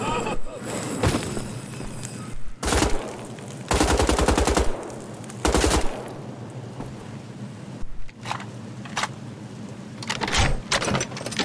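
Automatic gunfire in the first-person shooter Wolfenstein: The Old Blood, several loud sustained bursts of rapid machine-gun fire with pauses between them amid game ambience.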